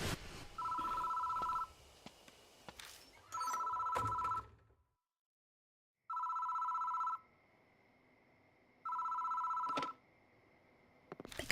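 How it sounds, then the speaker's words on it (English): A telephone rings in the horror video game Death Mark, four evenly spaced electronic bell bursts, each about a second long, separated by pauses, with a brief stretch of total silence midway. "The phone rings."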